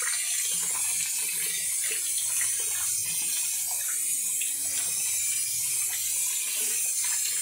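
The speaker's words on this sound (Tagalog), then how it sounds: "Hugasan muna ng maigi na wala po mga dugo-dugo." Raw meat rinsed under a running kitchen tap, a continuous steady splash of water into a sink with faint handling sounds, no speech.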